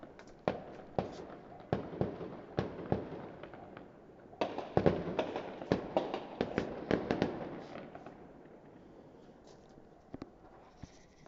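New Year fireworks burst at a distance in a rapid, irregular series of sharp cracks and booms, clustering densely in the middle before thinning out to scattered pops, with no talk over them.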